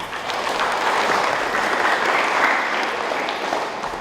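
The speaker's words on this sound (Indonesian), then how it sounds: "Tepuk tangan untuk mereka berdua." Wedding guests applaud the couple, a dense, sustained round of clapping that holds at an even loudness throughout.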